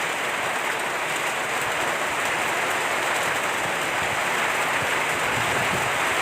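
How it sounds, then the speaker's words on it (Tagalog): Heavy rain pouring down in a loud, constant roar, dense and unbroken throughout, with no voices. "Ang kusuga sa ulan."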